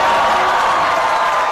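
Loud, continuous applause from a TV comedy show studio audience, a dense wash of clapping hands close by, with no gaps.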